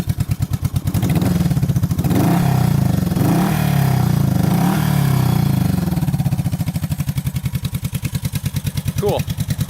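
A Honda CB350 motorcycle, a barn find, runs at a steady loud idle with a throbbing low rhythm and a few light revs, close by, with a person talking over it.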